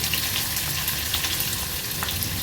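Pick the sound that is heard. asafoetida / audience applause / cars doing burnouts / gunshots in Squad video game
asafoetida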